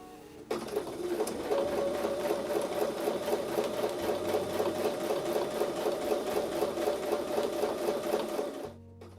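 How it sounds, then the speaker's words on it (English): A sewing machine stitches quilting into a Christmas table runner in a steady, rapid mechanical patter that runs continuously for several seconds, then stops abruptly. "and then continue sewing."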